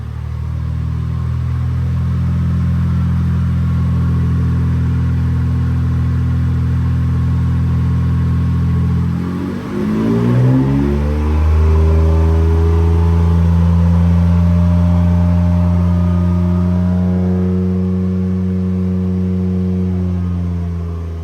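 A BMW F80 M3 engine drones loudly at steady high revs, dips briefly, then climbs again into a strong sustained roar with shifting tones, close and alone.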